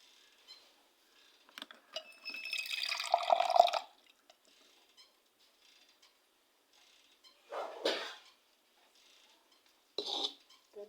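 Two cups of water pour into a pan for sugar syrup with a splashing rush for a few seconds, followed by two short splashes or clinks in an otherwise quiet room.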